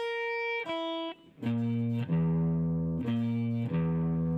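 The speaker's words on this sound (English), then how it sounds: "Can you hear the devil's interval?" A tritone interval, the so-called devil's interval, rings out as sustained electric tones with a distorted, effected timbre, several held notes changing in sequence over a few seconds with no voice.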